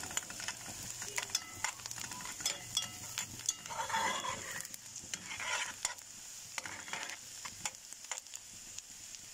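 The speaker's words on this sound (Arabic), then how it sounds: "البصلايه هنشوحها بس تصفيره كده قبل ما نحط عليها الفول" Onions being sautéed in a pan, with a soft sizzle and intermittent scraping stirs running throughout, moderately quiet and with no voices.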